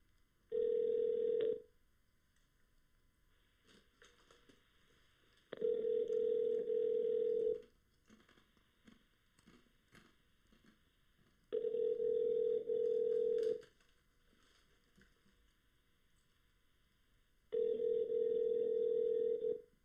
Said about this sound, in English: Let's try to call him back one more time, see if he answered.